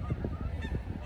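A flock of geese honks in faint, quick, overlapping calls from a distance, heard over a gusty wind rumble.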